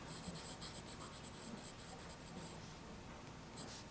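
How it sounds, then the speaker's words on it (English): A vintage Platinum President fountain pen from about the 1970s, with a Japanese medium nib, writes on Rhodia paper. It makes a faint, close, steady scratching in short repeated strokes, with no voices. "let's put nib to paper and see how she writes on Rhodia."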